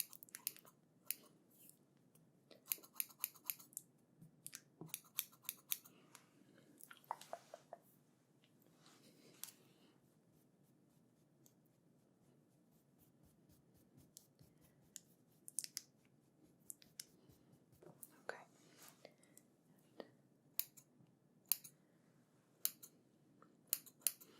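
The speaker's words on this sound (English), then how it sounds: "I'm just going to trim some of the hairs on your face" Close, crisp scissor snips trimming beard hairs during an ASMR barbershop haircut, coming in quick rapid bursts with short pauses, quiet and intimate with no talking.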